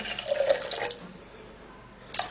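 Water runs and splashes briefly into a blender up close, then quiets to a soft trickle before a short final gush.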